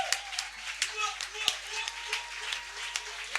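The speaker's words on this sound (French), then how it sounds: "Acclame très fort Jésus-Christ." A church congregation claps in rhythm and acclaims Jesus during an evening worship session, with crisp repeated hand claps mixed with voices and cheering throughout.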